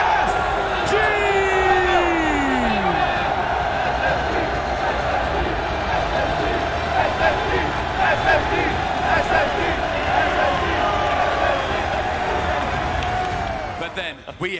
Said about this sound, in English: You hear the roar from the crowd.